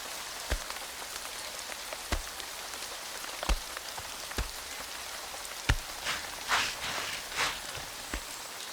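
Rain falls steadily on an outdoor surface, a soft constant patter broken by scattered louder drips and drops, with brief rustling bursts near the end; no voices.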